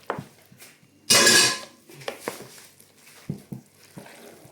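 Mashed potato purée is stirred in a bowl with a utensil, scattered clinks and scrapes against the dish around one longer, louder scraping burst.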